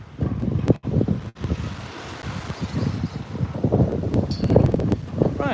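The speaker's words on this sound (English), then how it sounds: "rather windy today" Gusty wind buffets the microphone in uneven rumbling bursts, with a few sharp knocks and faint rustling in the background.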